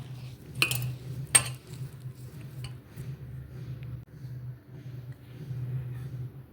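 Sweet potato vada batter being mixed in a bowl, with a couple of sharp utensil clinks against the bowl, then a steady soft scraping and stirring rhythm that continues quietly throughout.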